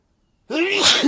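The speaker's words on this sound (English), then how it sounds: "as I sneeze right there, that's funny" A man gives a single short, sharp sneeze, close and fairly loud, after a moment of silence.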